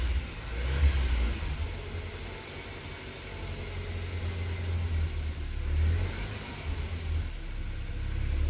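BMW E36 Compact 316i 1.9 engine with an idle fault, running at about 1100 rpm with the throttle held, a low, steady rumble that rises and sags slightly as it struggles to stay running.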